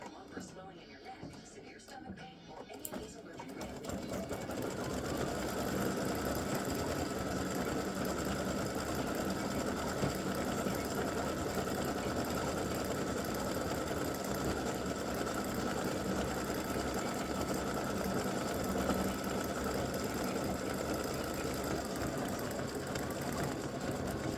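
Embroidery machine stitching the center of an appliqué bow, a steady rapid mechanical whirr that starts after a few quiet seconds and runs continuously and close, with talk faintly beneath it.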